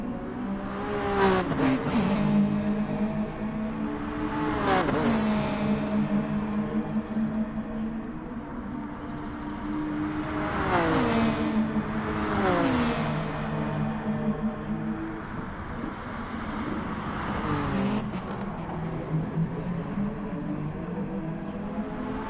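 Race cars lap a circuit in Gran Turismo Sport during a Super GT round, engines revving and shifting through gears as several cars pass close by in waves, loud and continuous.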